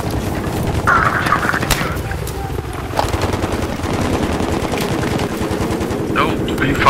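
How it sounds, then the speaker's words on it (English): Dense automatic gunfire crackles almost without pause in a Battlefield 3 match on the Sharqi Peninsula map, loud and close throughout, with voices talking underneath and bursts overlapping across the whole stretch. "Nope, being fired on."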